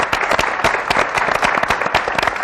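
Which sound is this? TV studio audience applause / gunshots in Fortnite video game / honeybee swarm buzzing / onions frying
TV studio audience applause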